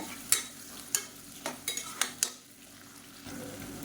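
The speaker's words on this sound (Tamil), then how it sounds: "இப்போ வெங்காயம் நல்லா வதங்கிட்டு இருக்கு" Onions frying in a pan for a Tamil chicken or crab varuval, with a soft steady sizzle broken by a series of sharp spatula scrapes and clinks against the metal, close and alone with no talking.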